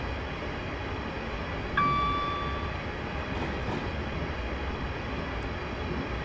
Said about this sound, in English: That's a passenger train.